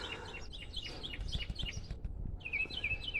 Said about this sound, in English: the birds are definitely back in force in the backyard